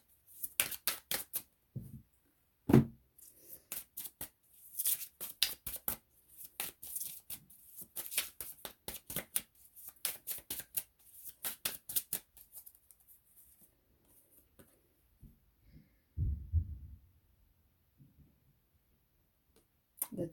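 Divine Masculine Energy Oracle cards being shuffled, soft close riffling bursts and quick flicks in irregular clusters over a quiet background, with a brief low thump near the end.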